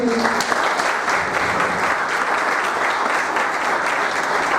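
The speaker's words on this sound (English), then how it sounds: "So big round of applause for sir" A big round of applause from an audience for a chief guest at a college function, dense and loud clapping filling the space evenly from start to finish.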